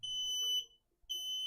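An electronic soldering kit beeps after finishing its countdown, giving two loud, steady high-pitched tones split by a short gap, much like a smoke alarm. No voices are heard.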